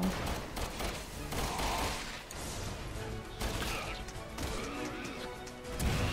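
Dense gunfire and crashing impacts from the video game Resident Evil 6, a steady loud barrage of shots and hits filling the whole stretch with scattered voice sounds mixed in.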